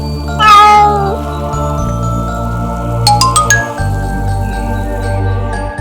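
A cartoon kitten lets out one high, drawn-out, sad meow that bends downward, set over a steady backing music track with a few bright chime tinkles further along.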